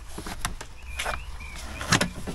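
Milwaukee Packout toolbox drawers slide open in a few quick, moderately loud scrapes and clunks, with brief whirring glides between them and no talk.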